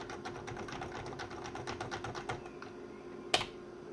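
Computer keyboard being typed on during a keyboard test on an older PC, a quick run of close, rapid clicky keystrokes, then a pause and one sharper louder click near the end.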